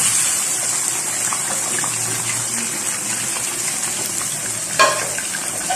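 Chicken frying in about one and a half cups of hot ghee in a karahi gives a steady, close, loud sizzle with light stirring clatter and a brief sharp knock near the end; no one speaks.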